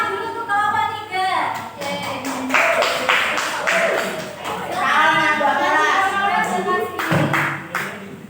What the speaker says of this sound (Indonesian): Beri tepuk tangan dulu untuk kawan 3.